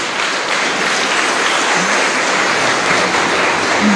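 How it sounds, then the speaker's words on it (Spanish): A congregation in a chapel claps loudly and continuously, a thick, uniform roar of many hands filling the space from start to finish. "Fuerte aplauso para el Señor."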